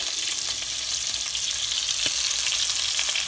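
Seasoned oxtail pieces sizzle and fry steadily in a hot pan for a second batch, a dense continuous crackle with occasional sharper pops and no voices.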